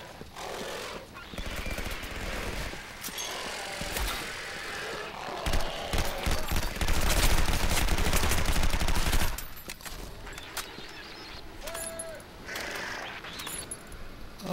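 Shooter video game gunfire comes in dense bursts of rapid shots and sharp cracks that swell into a loud sustained barrage midway, then thin out, with some smaller game sounds in between.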